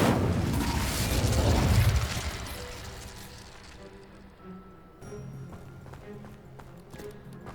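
A fire spell cast in Hogwarts Legacy, a loud roaring whoosh and burst in the first two seconds that fades into quieter game ambience with light clicks and thuds.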